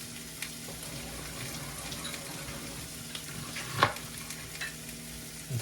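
Halved peppers hit a hot pan beside oyster mushrooms, giving a steady low sizzle and frying crackle throughout, with a brief sharper spatter near the end and no talking.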